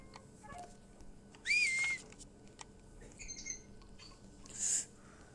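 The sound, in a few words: whistling in a video game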